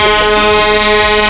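Car horns honk in a loud, steady blare from people driving past a roadside memorial for Tupac, with overlapping sustained horn tones and no talking.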